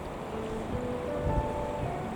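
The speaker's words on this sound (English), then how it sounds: "The river's in spate" A Scottish river in spate during a storm at Linn Falls, Aberlour, rushing high over submerged stones: a steady, loud, continuous broadband roar of fast water with no pauses, heard alone.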